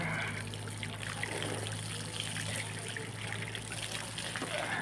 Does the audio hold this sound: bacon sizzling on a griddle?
no